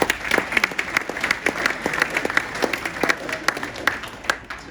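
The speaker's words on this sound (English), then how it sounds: "I think you deserve another round of applause" Applause from the audience at a VFL/VFLW football club presentation night, many hands clapping in a dense, lively patter with sharp individual claps standing out throughout.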